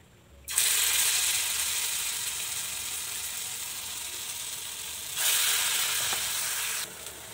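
Mixed lentil batter hits hot oil in a kadhai with a loud, steady sizzle that starts abruptly, holds for several seconds, then surges again as more batter goes in before easing.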